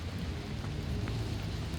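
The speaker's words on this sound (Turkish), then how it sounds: "Bu arada yağmur tabii ki telefonuma yağıyor." Steady rain falls on a phone, a dense continuous hiss close by with faint drops tapping on the phone's surface.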